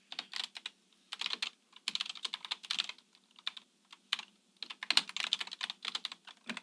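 Bursts of rapid clicking on a computer keyboard, with fast irregular keystrokes in clusters separated by short pauses, close and clear in a quiet room.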